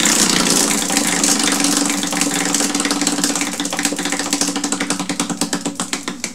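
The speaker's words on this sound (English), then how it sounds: "spin the wheel and give away a bonus prize" Prize wheel spinning during a sports card box break, a dense run of rapid clicking ticks that gradually slow and spread out as the wheel loses speed, steady and fairly loud with no talking.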